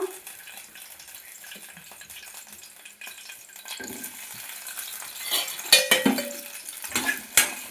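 Four green chilies fry in the same oil in a pan while carrot yogurt chutney is being made, with stirring scrapes, utensil clinks and a light sizzle that grow louder and busier toward the end.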